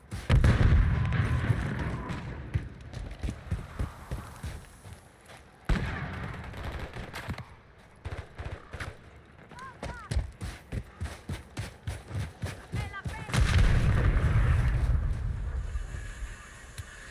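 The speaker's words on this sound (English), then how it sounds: "Stun grenade out." Gunfire and a stun grenade blast in Call of Duty on Rebirth Island, with dense bursts of shots and booming hits coming in loud waves, plus quieter stretches of scattered firing and game sounds.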